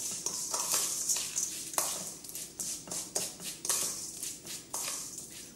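A potato, radish and roasted fennel salad dressing laced with vodka or gin is stirred steadily by hand, giving soft repeated scraping and clinking strokes against a bowl with a light hiss underneath.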